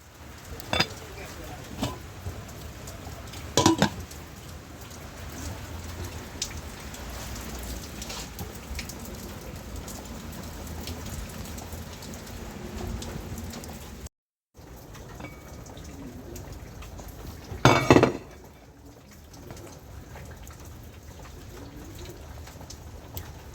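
Steady rain patters close by with scattered drips, broken by a couple of louder knocks and a brief dropout.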